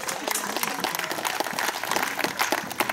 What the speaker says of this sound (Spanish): Aplaudan al Señor Jesucristo.